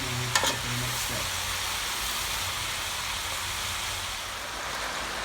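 Five kinds of meat searing in oil in a stew pot, giving a loud steady sizzle that runs unbroken, with a brief clatter near the start.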